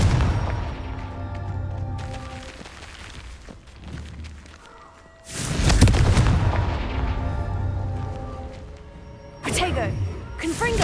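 Confringo blasting-spell explosions in Hogwarts Legacy, several loud booming blasts spaced apart among combat sounds, with a voice speaking between them.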